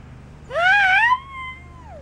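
A young child imitates a cat, giving one drawn-out, rising and wavering meow, loud and close, that trails off into a softer tail in a quiet room.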